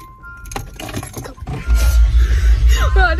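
A bunch of keys jangles and clinks in short metallic bursts near a car, followed by a low, loud rumble as the vehicle runs, with a brief spoken voice around it.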